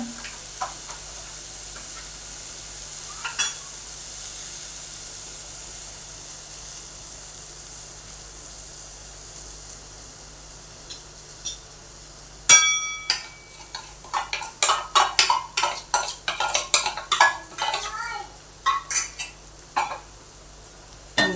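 Gram flour batter being stirred in a hot pan for kothimbir vadi, quiet at first with faint sizzling, then a run of close, rapid spoon scrapes and clatters against the pan in the last third.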